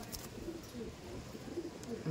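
Domestic pigeons at an old loft coo in low, soft rumbles, several overlapping calls close by, with a steady murmur of birds throughout.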